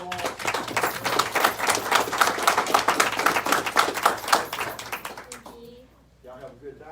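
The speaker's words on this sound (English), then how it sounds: "Let's give a round of applause." Applause from attendees at a city commission meeting in Douglas, a brisk rhythmic patter of clapping that fades out near the end as a voice speaks.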